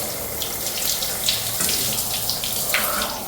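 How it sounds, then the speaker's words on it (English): A hotel shower at the Marriott Owings Mills Metro Center sprays with no curtain, sending a steady close hiss of water over a tiled floor with faint splashes flicking through it. "the water reaches outside of this designated shower area"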